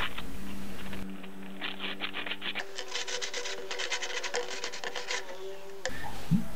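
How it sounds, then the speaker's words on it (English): Coarse emery cloth rubbing over the cut edges of a metal ring to deburr it, a close, steady scratchy rasping in rhythmic strokes with a shift in tone partway through. "Once you've cut the ring, deburr all the edges with some coarse emery cloth."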